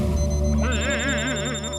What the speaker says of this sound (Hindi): टप्पू फोन क्यों नहीं उठा रहा?